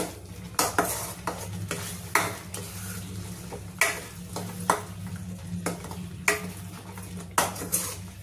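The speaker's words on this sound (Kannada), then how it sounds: "ಈಗ ಮಸಾಲೆ ಎಲ್ಲ ಚೆನ್ನಾಗಿ ಮಿಕ್ಸ್ ಮಾಡ್ಕೊಳ್ಳಿ" Masala for mushroom gravy fried and stirred in a pan: a low sizzle under regular sharp metal scrapes and clinks of a spoon against the pan, close and fairly loud with no voices.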